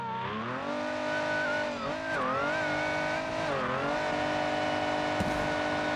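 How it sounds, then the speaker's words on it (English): A 1,000 horsepower car with nearly 800 lb-ft of torque launches hard down a quarter-mile drag strip, its engine roaring loudly and continuously with pitch rising and dipping through gear changes. "I just gunned it across the line."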